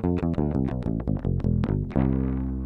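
A bass guitar through a Zoom B1Xfour or B3n multi-effects pedal plays a quick line of plucked notes with a plain, dry tone, ending on a sustained low note, no voices.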